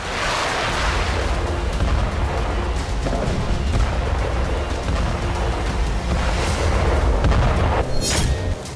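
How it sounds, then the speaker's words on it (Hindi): Deep, rumbling booms of American ATACMS missile explosions rolling one after another, loud and continuous with a heavy low-end roar and a sharp crack near the end. "अमेरिकी अटैकमस मिसाइलों के इन धमाकों का अंजाम ऐसा धमाका भी हो सकता है।"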